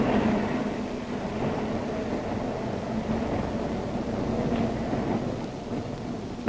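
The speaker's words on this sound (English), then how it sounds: "Ride the elevated train all the way from the Battery far uptown." A steady low rumbling roar of an elevated train running on tracks in early twentieth-century New York, continuous and moderately loud, with no voices.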